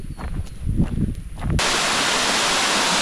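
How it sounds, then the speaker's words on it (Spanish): A waterfall at Club Explorean in Chiapas, near Tuxtla Gutiérrez, with water dropping from a height, bursts in midway as a loud, steady rushing roar after a few rustling footsteps. "Ahorita vamos a la segunda cascada, que es donde está un poco más grande, el chorro cae de más alto"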